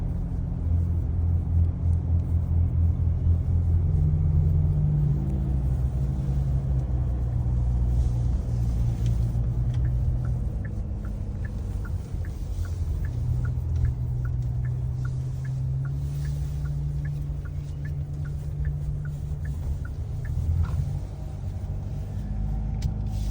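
A Kia Tasman pickup with a 2.2-litre turbo engine drives on the road, giving a steady low engine rumble and tyre drone heard from inside the cab, dipping briefly midway and then settling back to an even cruise.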